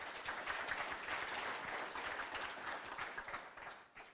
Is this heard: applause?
yes